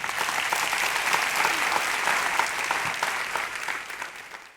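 A church congregation claps together in a dense, sustained round of applause that swells and then gradually thins out, with no talking over it.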